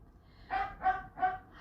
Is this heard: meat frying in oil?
no